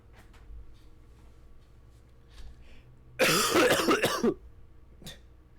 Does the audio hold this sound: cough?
yes